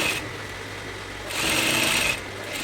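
A sewing machine stitches along a kimono sleeve near organza fabric. Two short bursts of fast, even whirring stitching come close and moderately loud, separated by a brief quieter pause.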